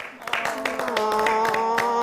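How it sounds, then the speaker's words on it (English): An audience at a live New Year's show claps in a scattered burst that builds and thickens over two seconds, with a voice and tonal music running underneath. "Now clap."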